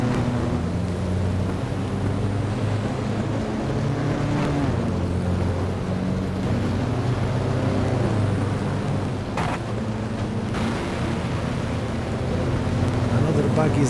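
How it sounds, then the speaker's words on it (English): A 1959-season racing car engine in the F1 Challenge video game, a continuous low droning hum with shifting pitch as it revs, steady and unbroken throughout, with speech faintly over it. "Another bug is the low level of the engine sound"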